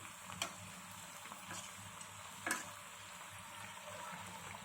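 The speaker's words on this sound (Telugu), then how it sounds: "ఇప్పుడు మనం డీప్ ఫ్రై చేసుకుందాం." Raw banana bajji deep frying in hot oil, a steady soft crackling sizzle with a few sharper pops, close but fairly quiet, with no talking over it.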